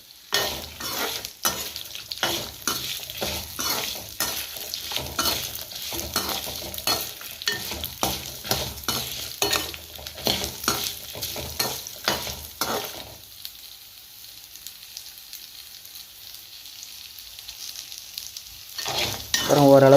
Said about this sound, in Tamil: தேவையான அளவு புளி ஒரு சின்ன எலுமிச்சம்பழ சைஸோட சின்ன சைஸில் போட்டு நல்ல எண்ணெயில் நல்லா வதக்கி விடலாம்